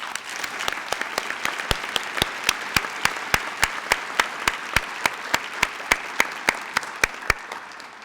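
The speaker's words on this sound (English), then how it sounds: "let's give them a round of applause individually for their service" Audience applause for a school board member at a Wichita Public Schools Good Apple Awards ceremony, with a few loud individual claps standing out in a steady, sharp rhythm above softer clapping from the crowd, lasting throughout.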